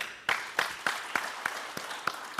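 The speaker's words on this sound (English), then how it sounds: "Another clap." At an investment forum in Perth, Australia, an audience claps in a sparse, steady series of about eight distinct claps at a slow rhythm, fairly faint and slightly distant.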